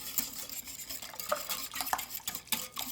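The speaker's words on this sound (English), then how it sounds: "we're just going to give this a good stir. Just like you're making pudding." Instant pudding mixture for a chocolate eclair pie being stirred in a bowl, soft repeated scraping and clinks of a utensil against the side, close and moderately quiet, with no voices.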